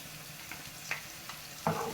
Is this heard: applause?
no